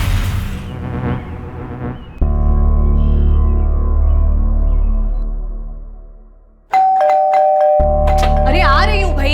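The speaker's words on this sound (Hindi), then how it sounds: "क्यों इतनी घंटी मार रहे हो?" A doorbell chimes over and over, its tones ringing out loudly and overlapping, with a brief pause before another ring.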